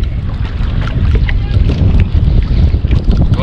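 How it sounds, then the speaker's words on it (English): Loud, dense patter of rain falling at sea on a fishing trip, mixed with wind buffeting and low rumble, continuous throughout with no talking. "The rain has come."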